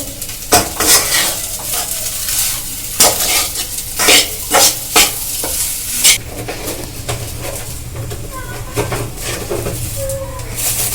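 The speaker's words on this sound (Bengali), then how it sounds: "দিয়ে এটাকে ভালো করে নেড়ে নেড়ে মেশাতে হবে" Chicken roll filling fries in a pan with a tablespoon of white oil while a utensil stirs and scrapes through it, sharp clinks over a steady sizzle with a faint voice in the background.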